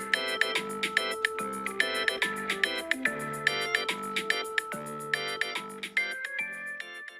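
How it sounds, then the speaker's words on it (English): A bright, chiming marimba-style ringtone melody plays on its own, repeating a rhythmic pattern of plucked notes with no talking. "Maybe I want that for a ringtone."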